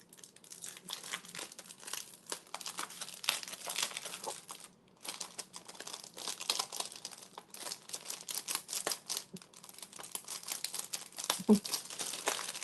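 Paper sweater pattern being cut, heard as faint, close crinkling and rustling with small snips scattered across a long stretch, pausing briefly midway.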